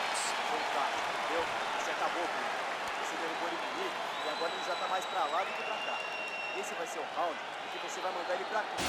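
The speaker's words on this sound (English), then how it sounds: "the crowd voicing its appreciation after that round" An arena crowd at a welterweight MMA fight applauds and cheers after a round, a dense continuous roar of clapping and crowd noise with occasional sharp thuds, under speech.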